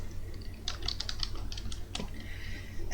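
Keys clatter in quick, uneven bursts on a computer keyboard, close and crisp, with short pauses between runs of typing and no voice.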